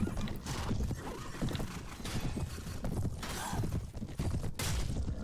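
A horse whinnies amid rapid clip-clop hoofbeats and busy background action in the video game Mount and Blade: Warband, loud and close throughout.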